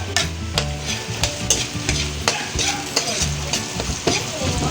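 Garlic and onion sauté in a hot pan, a constant sizzle and crackle broken by repeated sharp scrapes and knocks of a utensil stirring against the pan, close and loud with no talking.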